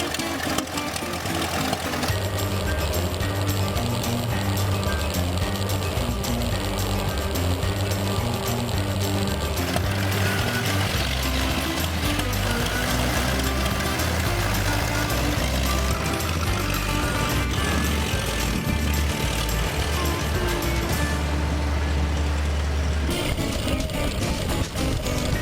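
A Ford Model T engine runs steadily and loudly while racing in a Pig N Ford event, a continuous rough mechanical drone that stays dense throughout.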